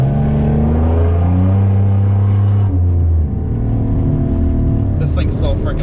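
A Pontiac Grand Prix GTP engine drones loudly and steadily, its pitch rising and shifting as it revs, with a voice briefly audible near the end.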